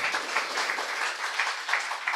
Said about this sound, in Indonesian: Boleh kasih tepuk tangan lu buat istri saya ya.